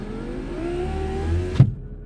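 Left electric power window on a car running with the engine idling, a steady whirring motor drone that rises slightly in pitch and ends with a sharp thunk as the glass stops, close and alone.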